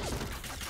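Gunfire from a Point Blank first-person shooter match scoring a headshot, a dense burst of rapid shots packed into under a second, loud and close.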